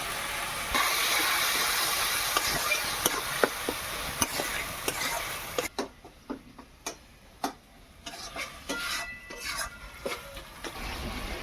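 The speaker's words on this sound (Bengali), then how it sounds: "এটাকে খুব ভালোভাবে নাড়াচাড়া করতে হবে যাতে টমেটোগুলো একদম গলে যায়" Masala with tomatoes and salt being stirred in a pan, a spoon scraping and clicking against the metal in irregular taps over a soft sizzle that drops away partway through.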